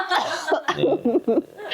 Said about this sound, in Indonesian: Ya ini batuk dulu.